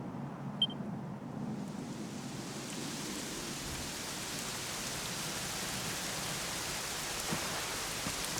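Steady rain falls in the video game Dragon Quest XI, an even wash of hiss that swells in from a quieter start and holds constant throughout, with no talking.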